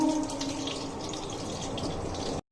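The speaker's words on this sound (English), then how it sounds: "2 are still frying" Chicken kebabs frying in a pan of oil, a steady close sizzle and crackle that cuts off abruptly at the end.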